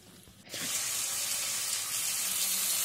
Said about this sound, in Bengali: মশলাটা কষতে কষতে জল দেব, যাতে খুব ভালো করে মশলাটা গুলে যায় জলের মধ্যে